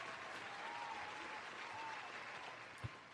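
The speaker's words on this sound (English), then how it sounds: "Go ahead and give me a little round of applause one more time" A quiet, faraway round of applause from a small audience on a podcast show, steady soft clapping for about three seconds with a single thump near the end.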